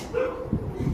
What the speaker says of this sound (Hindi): कुत्ता बहुत भौंक है आज